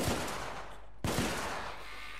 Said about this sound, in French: Ça tire deux coups.